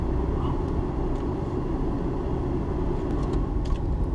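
A car driving home through traffic on Fulton Avenue, with a steady, dense engine and road rumble that continues throughout and has no talking over it.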